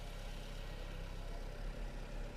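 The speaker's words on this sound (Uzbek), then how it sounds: "motorimiz qimirlamay, soatday ishlab turibdi" A repaired Chevrolet Cobalt car engine idles smoothly, a steady, even low hum with no talking over it.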